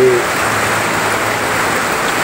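Steady rain pours down in stormy weather during a flood, a dense even hiss filling the clip from start to finish without any voices.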